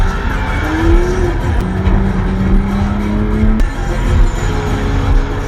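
Cars in a street race, loud engines roaring close by with sustained high revving and tire squeal, continuous throughout.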